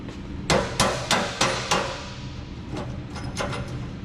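Hammer blows while fitting Kooks headers to a 2015 Camaro SS: five sharp, evenly spaced strikes close by, followed by a few fainter taps against low workshop rumble.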